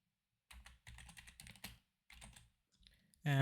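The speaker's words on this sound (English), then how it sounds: "I'm just going to type" Typing on a computer keyboard, a short burst of soft close key taps in quick uneven clusters, then a pause and a couple more keystrokes before a louder noise at the end.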